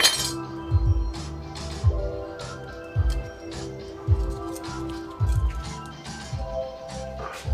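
Small pieces of scrap tin and non-magnetic stainless steel clink and rattle against one another in a tin bucket, giving a string of light metallic taps in loose, irregular clusters.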